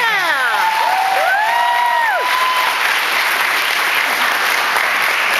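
A convention opening-ceremony crowd applauds and cheers for two guests, steady dense clapping running throughout with whoops on top, while an announcer's voice and a few shouts carry over the first couple of seconds.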